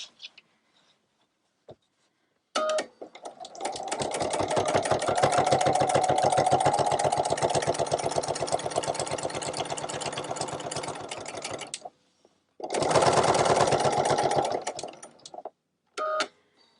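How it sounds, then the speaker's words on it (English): A sewing machine stitches a tote bag in two runs, a long steady rapid mechanical whir of about nine seconds, then a pause and a shorter burst, with brief clicks around the starts and stops. "I do stitch over it a couple times because that is a high stress area."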